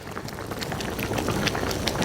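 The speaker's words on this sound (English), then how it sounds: "I hear the soup is actually boiling a bit too much for my taste" Tomato soup boiling in a pot, a steady close burble of popping bubbles at a moderate level, with no voices.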